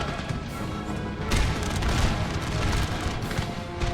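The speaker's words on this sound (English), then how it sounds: "What are our cannons blasting at?" Artillery cannons fire in a Napoleon Total War battle, with dense overlapping booms and crashes of a loud, continuous barrage and no speech.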